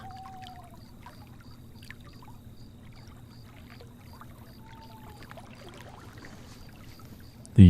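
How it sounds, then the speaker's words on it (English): A recorded flowing stream trickles and pours softly in the background, a quiet continuous water texture with faint scattered chirps, mostly free of talk. "Do you create the water sound?"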